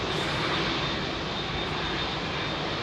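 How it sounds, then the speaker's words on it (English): A British Airways Airbus A350-1000 jet departs Heathrow runway 27R with a steady, loud engine roar that holds evenly throughout, close by and without voices. "British Airways 91C, bound for Austin, Texas, Airbus 350-1000. That's the one that just left."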